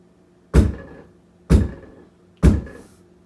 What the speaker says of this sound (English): Who could be knocking at this hour?